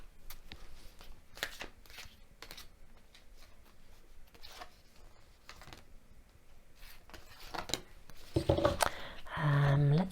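Oracle cards being shuffled by hand, a series of soft, papery riffling bursts of varying length, close but quiet, followed by louder handling and a short tonal sound at the end.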